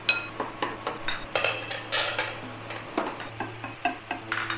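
Pomfret fish curry served onto a plate in a home kitchen, soft clinks and scrapes of a spoon against cookware and plate, repeated in short irregular bursts, close and quiet with no talking.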